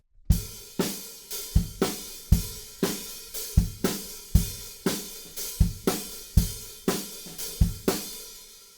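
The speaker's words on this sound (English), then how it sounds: "the chorus groove is just the same as the verse groove, but with not as many ghost notes and with some slushy hi-hats instead of nice tight hi-hats" Full drum kit playing a steady rock chorus groove with loose, slushy half-open hi-hats and a few soft ghost notes on the snare, strong regular kick and snare hits repeating evenly throughout, close and loud with no voices.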